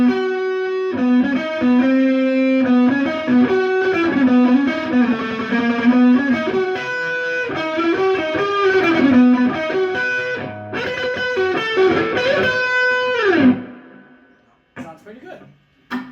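An electric guitar played through a Laney Ironheart IRT15H2 15-watt tube head with reverb, loud sustained distorted notes and chords running for about thirteen seconds before cutting off, followed by brief scraps of noise.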